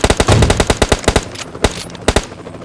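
Rapid heavy-weapon gunfire in PUBG Mobile, loud, close bursts of shots in quick rhythm, then a few scattered single shots.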